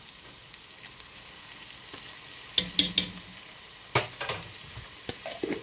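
Onions with garlic cloves cooking in a pot for potato soup, a steady soft sizzle broken by several sharp scrapes and taps of a spoon stirring against the pot.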